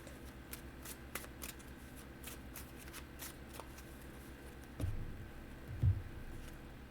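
Tarot cards being shuffled and drawn during a reading, a soft steady riffling patter running throughout with a couple of slightly louder soft thuds near the end, quiet and close.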